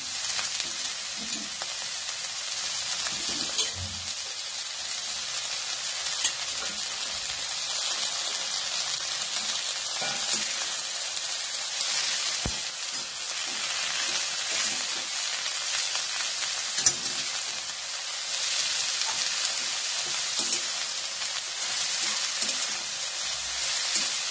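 Dill greens sizzle and hiss as they fry in a hot pan for a Marathi pumpkin and dill bhaji, with a steady close crackle and occasional stirring scrapes throughout, no voices.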